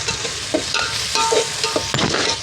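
Mutton coated with turmeric and fresh homemade coriander powder stir-fried in oil in a pot over a village wood-fired stove, a steady close sizzle broken by scraping spoon strokes, with no talk.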